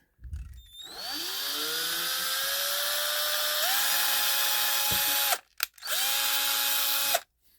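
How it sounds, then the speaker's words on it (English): An electric drill whirs up and runs steadily at close range, dips briefly, then spins again before stopping. "I'm going to drill a little hole in it here"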